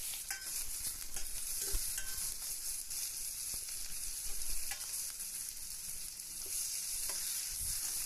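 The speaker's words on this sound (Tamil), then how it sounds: "பச்சை மிளகா இருக்கு இல்லையா அதையும் போட்டு அதுக்கப்புறம் தக்காளியை போட்டு எல்லாத்தையும் நல்லா ஃப்ரை பண்ணிக்கலாம்" Green chillies and tomatoes frying in a pan for a mutton bone curry, a steady broad sizzle running throughout with scattered stirring clicks, close and even, no voices.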